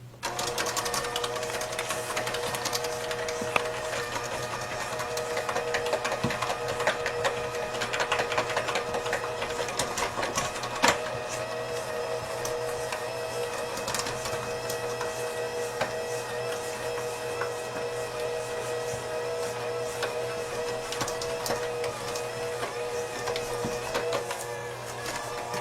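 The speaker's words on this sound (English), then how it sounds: "okay, with the beater going." An electric hand mixer runs on low speed, its beaters churning sugar cookie dough with a steady, continuous motor whir and rattle that holds at an even level for the whole stretch, with no voices.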